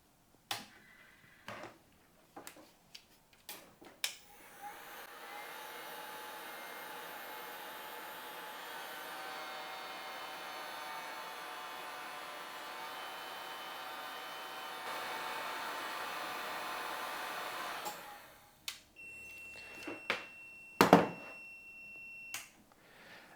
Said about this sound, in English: So let's test it with the heat gun.